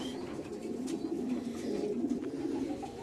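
A racing pigeon from Izmir, held in the hand, gives a steady low cooing that carries through the whole moment, close and fairly loud with no talk over it.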